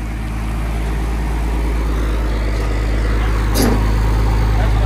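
A rat truck with an oil-burner engine drives along with a constant low rumbling drone that stays loud and close throughout, with faint cabin noise over it.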